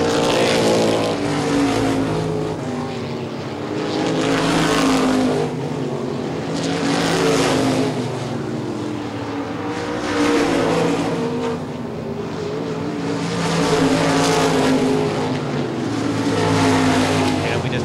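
ICAR Top Speed Modified Tour race cars roar continuously around Baer Field's track, engines loud and close with waves of passing cars rising and falling, and a commentator's voice faintly in the mix.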